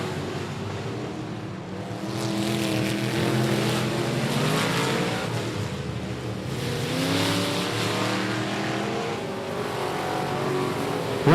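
Race cars lap a speedway at I-37 Speedway, engines roaring continuously as cars sweep past in waves of rising and falling pitch, loud and sustained with no break.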